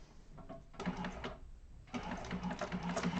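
Sewing machine top stitching a bag, running in two close bursts of rapid mechanical whirring separated by a short pause.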